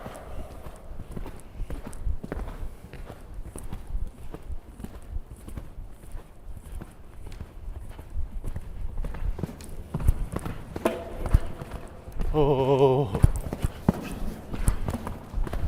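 Horse hooves thudding on an arena surface during show-jumping training, a steady trotting rhythm of near hoofbeats with a rider's brief exclamations and a coach's voice over them.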